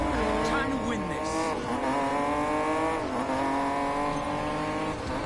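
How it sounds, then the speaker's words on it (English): Nissan GT-R engine in Need for Speed Payback, a racing game, roaring with steady high revs and shifting pitch, tires squealing at moments, with a voice talking over it throughout. "Even like this Nissan GTR sounds so good as well"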